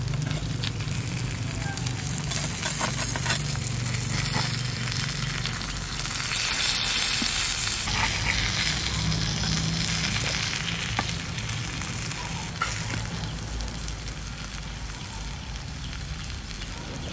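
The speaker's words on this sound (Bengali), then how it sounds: "এই মাথা দুটো তেলের মধ্যে দিয়ে দিচ্ছি।" Two fish heads fry in hot oil with a dense, continuous crackling sizzle that stays loud and close for the whole stretch, with no talking.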